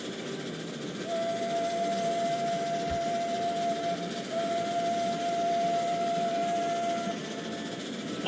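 A steam train whistle blows in Transport Fever 2, a long sustained tone that runs for several seconds with a brief dip partway, over a constant hissing rumble of steam and rail noise.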